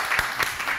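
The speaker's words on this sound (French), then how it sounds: "Allez, on applaudit très très fort Adèle," Studio audience applauding a comedian on a French TV comedy news show, a short dense burst of clapping with a few louder swells, heard alone.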